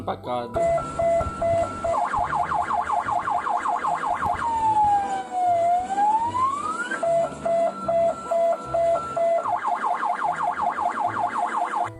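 A loud, close ambulance siren cycles between a rapid yelp and a slow rising-and-falling wail, then returns to the fast warbling pattern.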